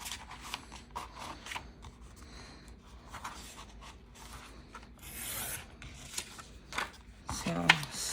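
Scissors snipping through a doodled paper collage scrap, a run of quick, close crisp cuts and rustles with a few louder snips toward the end.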